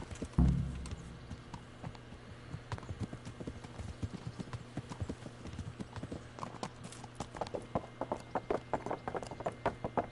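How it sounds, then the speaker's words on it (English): Horse hooves clip-clop at a steady walking rhythm while riding in the video game Kingdom Come: Deliverance. The hoofbeats are close and continuous, with a soft background hum. "your horse is so slow"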